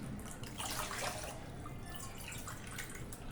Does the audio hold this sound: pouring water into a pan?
yes